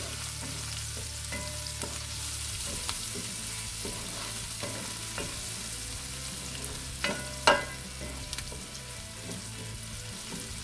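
Cashews, fennel seeds and cardamom pods toast in a hot oiled pan for a chicken curry, with a steady close sizzle and frequent scraping stirs, plus one sharper clack near the end.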